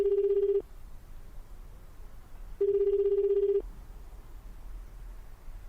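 A telephone rings back during a call in the video game 428 Shibuya Scramble, two long electronic ring tones separated by a couple of seconds of quiet hiss.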